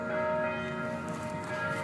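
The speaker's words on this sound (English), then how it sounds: "Do you hear those wedding bells?" Church bells ring with a sustained, resonant metallic hum, steady and moderately loud, no voices.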